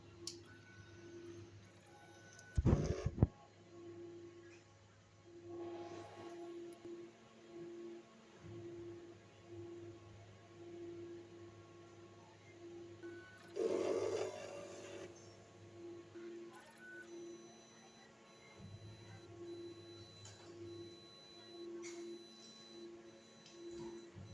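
A large-format sublimation printer runs a head clean, giving a faint steady mechanical hum with repeated soft pulses and a couple of louder clunks and squishes of the capping and wiper, all close and without talk.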